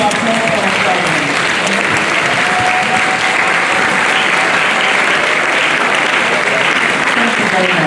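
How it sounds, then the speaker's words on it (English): Guests at a graduation ceremony give the graduates a long, loud round of applause, a dense unbroken wash of clapping from a large crowd, with faint voices mixed in underneath. "Could all the guests here please raise up and give a round of applause to our graduates?"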